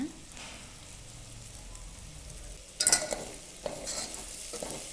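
Spices such as chilli powder and garam masala, with salt, sugar and lemon, being stirred through a vegetable pulao mixture: soft scraping and mixing textures, quiet and close, with a few louder bursts midway and no talking.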